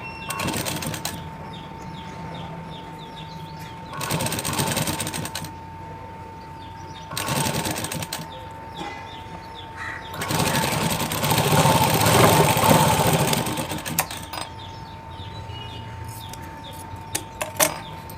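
A sewing machine top-stitches at a shoulder and sleeve join, running in several bursts of a few seconds each with pauses between, the longest burst near the end, fairly close.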